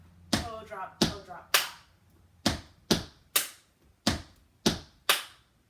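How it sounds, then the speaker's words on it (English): Tap dance toe drops alternating with hand claps in a beginner tap lesson: sharp, evenly spaced percussive hits ringing in a clear room, about ten strikes in steady rhythm, close and crisp. "Toe drop, clap, toe drop, clap."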